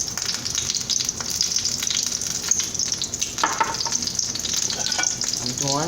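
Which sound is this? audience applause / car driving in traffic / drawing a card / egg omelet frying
egg omelet frying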